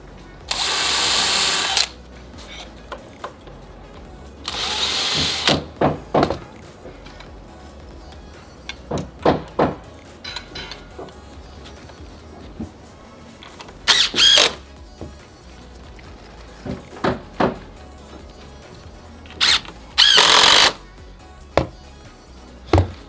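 A power drill pre-drills screw holes in patio trim around a paver patio and fire pit, with several loud bursts of drilling spread across the clip and quieter tool handling and tapping between them.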